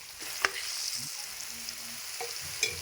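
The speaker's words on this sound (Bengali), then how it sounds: "আর এখানে আমি আলু ভেজে নিচ্ছি।" Potatoes frying in a pan, a steady soft sizzle broken by a few sharp clinks and scrapes of stirring, close and moderately quiet throughout.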